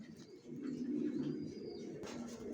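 A pair of young racing pigeons, a male and female moulting into adults, give soft low cooing in a quiet indoor setting, one steady murmuring call with a brief rustle near the end.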